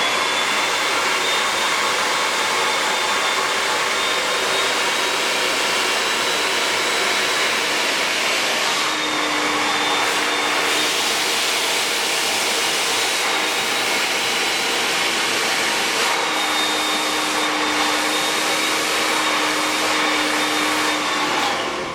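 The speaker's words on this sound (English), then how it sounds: "I make sure I have a nice grip on it, and then I start to blow dry." A handheld hair dryer blows steadily while a round brush works through hair during a bouncy blow-out, producing a loud, continuous whooshing roar that holds throughout with brief shifts in pitch as the airflow changes.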